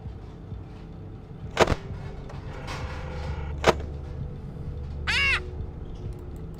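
A bird squawks in a few harsh, separate cries, two sharp calls and then a longer raspy wavering one, standing out over a low murky background hum, with no talking.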